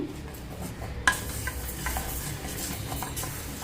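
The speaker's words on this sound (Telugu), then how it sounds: "ఇది ఇలా వేయిపిస్తున్నానండి పెసరపప్పుని దోరగా వేయించుకోవాలి" Moong dal being dry-roasted in a pan, a steady soft rustling scrape of stirring with one sharper knock near the start; no voices.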